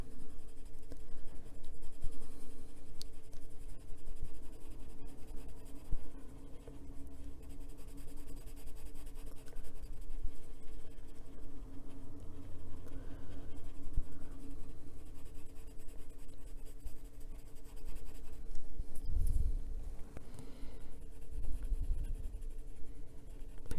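Colored pencil rubbing steadily across paper while coloring in an adult coloring book, a faint, continuous soft scratching throughout with no talking.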